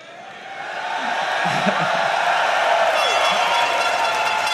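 A large live esports arena crowd at a League of Legends EU LCS match cheers in a broad, steady roar that swells in the first second and then holds loud, with scattered whoops and clapping inside the din.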